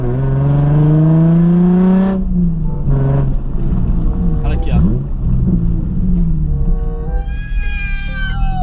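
A Nissan 350Z engine in a drifting video game, revving loud and close with rising and falling harmonic whine, over game sounds and speech.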